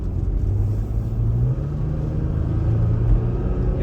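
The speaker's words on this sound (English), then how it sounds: "you can hear cars going by and maybe a little wind noise" A steady low traffic rumble as cars pass on a road nearby in Carson Valley, heard from inside a vehicle with the window down, with a soft whoosh of wind.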